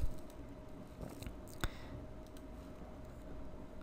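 A computer mouse clicking during work in the Unity editor, a few sharp, close clicks spaced out over quiet room hum, one louder click standing out near the middle.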